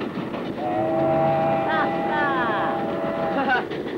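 A train in a 1958 Soviet film, a steady rolling rumble with horn-like whistle tones sounding over it near the middle and end, and a voice briefly heard.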